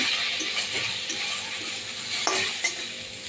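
Taro hits a hot wok and crackles and sizzles while a spatula scrapes and clinks against the metal in a quick, uneven rhythm, close up with no talking.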